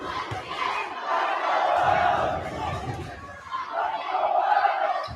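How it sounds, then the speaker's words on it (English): A basketball game crowd in a school gym during a rivalry matchup cheers and yells in sustained, rolling waves, loud and reverberant, with no clear single voice standing out. "Both sides of the gym cheering for their teams."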